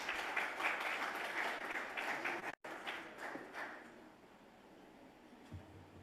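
Audience applause welcoming a speaker at a pharmaceutical regulatory seminar, a moderate round of clapping that briefly cuts out, resumes, then thins and fades toward the end.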